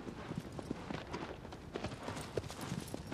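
Horse hooves clip-clop at a walking pace in the Shadow of the Colossus video game, a faint, steady rhythm of hoof hits with soft jingling under light background noise.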